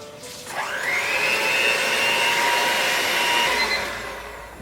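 An electric mixer whips batter for a gluten-free edible cookie bowl, a loud steady motor whine that rises at the start, holds evenly for several seconds, then winds down, with no talking.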